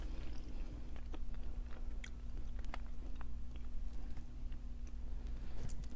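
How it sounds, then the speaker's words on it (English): Crunchy-filled Korean snack being chewed close up, a steady run of soft crunches and bites over a low constant hum, with no talking. "The filling is crunchy."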